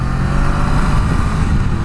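Honda Rebel 500 motorcycle engine pulling hard under throttle, a loud, steady, low-pitched rumble heard up close with no break.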